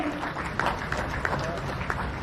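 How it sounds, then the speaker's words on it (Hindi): A crowd keeps up steady applause at a government ceremony where appointment letters are handed out, continuous clapping mixed with a voice speaking over it. "तालियां जोरदार होती रहिए।"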